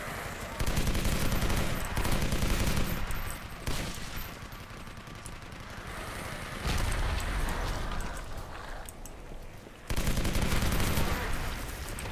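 Heavy automatic gunfire in a first-person shooter battle in a besieged city, loud sustained bursts broken by short pauses and then resuming, with no voices over the shooting.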